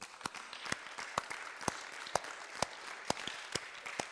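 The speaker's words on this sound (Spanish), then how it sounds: "Denle un aplauso al Señor" A church congregation applauding during a Good Friday service, heard as a steady wash of hand claps with sharper individual claps popping out at regular intervals, moderately loud throughout with no talking.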